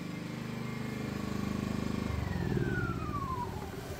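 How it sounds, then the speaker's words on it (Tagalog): PK2300i generator engine running at a steady idle, then its rumble shifts and the pitch sags as it is switched off and begins to wind down, close and moderately loud. "Patayin natin yung ating generator."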